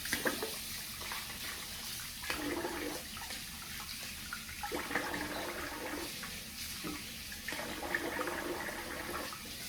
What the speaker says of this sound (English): Let me rinse the face here.